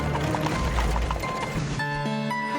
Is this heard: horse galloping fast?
yes